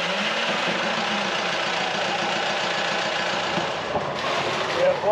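A sailboat's inboard engine runs steadily after its fuel system is bled of air, a close, continuous mechanical drone with a slight knock, with brief voices in the background and a small change in tone near the end.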